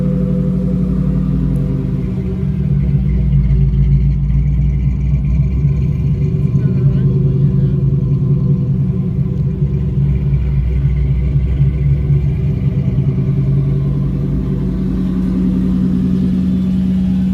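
A 1999 Ford Mustang GT with a 5.0L stroker engine runs steadily on its first start and run-up, a loud, deep, continuous rumble at a fairly even idle.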